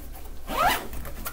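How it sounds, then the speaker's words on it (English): A zipper is pulled shut on a guitar gig bag in one quick, close, rasping stroke of about half a second, followed by light handling noise. "Zip that up."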